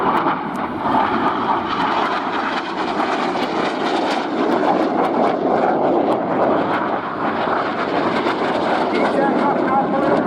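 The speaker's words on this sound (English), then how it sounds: "These aircraft now pulling up to 60" Display aircraft roar overhead at the RIAT airshow, a loud, steady engine drone that runs the whole time under an announcer's commentary.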